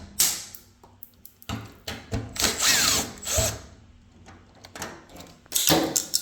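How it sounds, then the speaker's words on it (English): A power drill removing screws from a Samsung dryer door whirs in several short bursts, starting and stopping with brief pauses between, close and fairly loud. "Put that on your drill."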